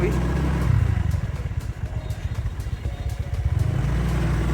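A motorbike rides along a damp dirt road on Phu Quoc island in Vietnam, its engine rumbling and revving unevenly up close while the rider talks over it.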